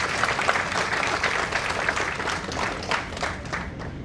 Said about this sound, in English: I would like to begin with a round of applause for each one of you seated here and joining us